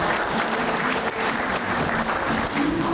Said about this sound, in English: let's give a round of applause to John for teaching us about 360